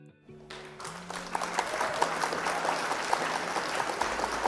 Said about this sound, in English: Round of applause for our opponent.